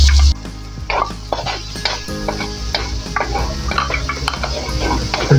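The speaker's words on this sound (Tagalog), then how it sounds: "Sunod pa natin igisa yung bawang." Garlic sautés in a hot pan with a continuous sizzle, while a spatula stirs and clinks against the metal in uneven, close-up strokes.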